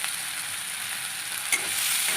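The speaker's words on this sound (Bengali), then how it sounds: "পেঁয়াজটা ভাজা হয়ে গেছে" Chopped onion with a little oil and salt sizzling steadily in a pan, a continuous bright frying hiss with a brief clink near the end.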